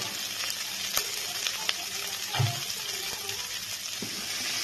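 Onions and capsicum frying in a pan for dry chilli chicken give a steady, quiet sizzle with a few faint scrapes and small clinks, close by and with no voice over it.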